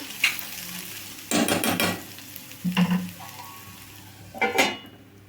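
Onions cooking in a pan with the lid on, heard as a soft sizzle with a few separate bursts of clinking and scraping from a utensil against the pan, close and moderately quiet, with no talking.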